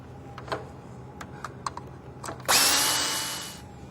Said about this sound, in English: it's a matter of just screwing this to the surface